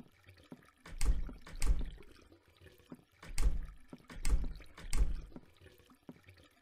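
A faucet runs water in the horror game The Crooked Man, coming in several loud rushing bursts with quieter gaps between them.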